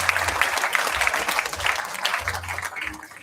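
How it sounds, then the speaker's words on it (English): A corporate townhall audience applauds an award-winning team, with brisk, full clapping from a sizable crowd throughout, easing slightly toward the close. "Let's hear a big round of applause for his team."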